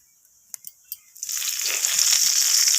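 Whole dried red chilli, cumin seeds and bay leaves hit hot mustard oil in a kadai. A few small clicks give way to a sudden loud, steady sizzle that keeps going.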